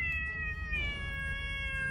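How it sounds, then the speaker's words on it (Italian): Abandoned kittens among seaside rocks give a clear, drawn-out meow that rises and wavers, close by and fairly quiet over low background rumble. "Gattini!"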